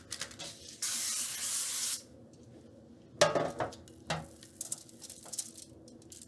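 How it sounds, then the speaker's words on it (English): A steady hiss of avocado oil sprayed onto a baking sheet lasts about a second, then light clinks and clatter of kitchenware follow in a quiet room. "I'm going to spray it with a little avocado oil just to make sure that our meatballs don't stick."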